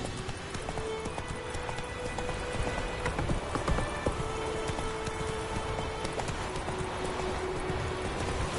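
Horse hooves clip-clopping in a steady galloping rhythm in The Witcher 3 video game, continuous and fairly close under game ambience, with a brief voice near the start.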